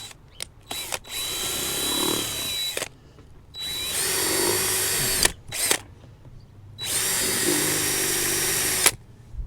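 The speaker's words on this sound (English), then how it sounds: "Now just drilling a hole." A power drill with a 1/4 inch bit bores a hole through a plate while building a pond skimmer box, running in three sustained whirring bursts separated by short pauses and clicks, close and loud.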